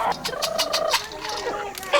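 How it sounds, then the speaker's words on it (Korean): Poultry in a farmyard being chased and caught for a meal, with repeated loud gobbling, squawking calls in rapid bursts, close by and without talk. "그 사이 마당에선 닭을 잡느라 바쁘다."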